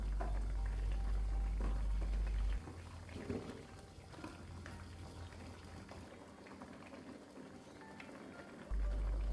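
Potatoes go into a pot of hot oil for Padang-style samba lado tanak with anchovies. A steady close sizzle and bubbling eases quieter after a couple of seconds, then swells again near the end.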